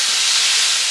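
Country fried steak sizzling loudly in a hot pan as it is flipped, a dense, steady close hiss filling the whole second with no voices.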